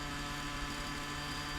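A miniature autonomous helicopter drones with a steady, even rotor and engine hum, faint and continuous with no talk.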